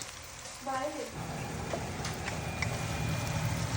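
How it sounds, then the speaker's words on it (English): After a brief voice at the start, a steady oily sizzle of frying onion takes over and continues evenly to the end. "It is frying onion, the giant onion."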